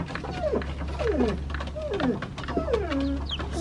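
Month-old chicken chicks cheep and chirp with short falling calls over a steady low hum, close by and repeated throughout.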